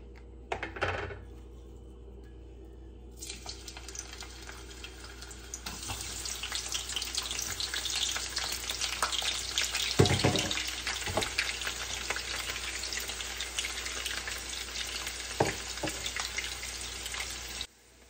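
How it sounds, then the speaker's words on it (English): Garlic and red onions hit hot vegetable oil, starting a loud steady crackling sizzle a few seconds in that carries on for the rest of the clip, with occasional clinks and scrapes of a utensil in the pan. "And then I'm going to add my garlic and some red onions to that."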